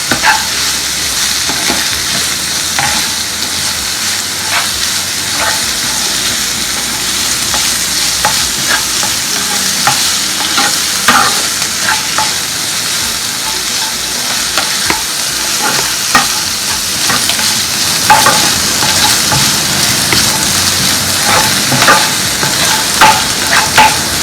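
Onions sauté in a pan on the way to browning for a Kerala prawn roast, a loud, continuous close sizzle broken by frequent spoon scrapes and stirring strokes, with no one speaking.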